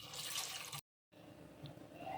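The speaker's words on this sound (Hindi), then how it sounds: "अब हम कुकर में सारी अरबी डाल देंगे। 2 गिलास पानी डाल देंगे।" Water from a glass poured into a pressure cooker over taro root, a soft, splashy stream that breaks off into a brief silence and then resumes, quiet and close.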